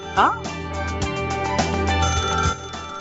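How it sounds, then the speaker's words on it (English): A telephone ringing with a short, steady electronic ring tone that sounds close and fairly loud for a few seconds. "I think the phone is ringing, so I think we have a caller on the line"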